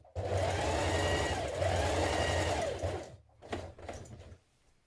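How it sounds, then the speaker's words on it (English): Sewing machine running a long straight ease stitch along the shoulder edge of a coat back piece, one steady close whir lasting about three seconds, then a few short uneven bursts as it slows and stops. "Now ease stitch the shoulder edge of the back piece between the notch and the circle here"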